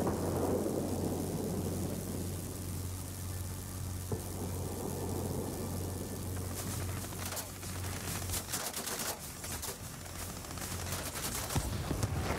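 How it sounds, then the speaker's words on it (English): Thunderstorm in the World of Warplanes flight game: steady rain hiss and a low rumbling bed of thunder, with sharp crackling bursts late on, fairly quiet overall. "Be advised, a line of thunderstorms is approaching."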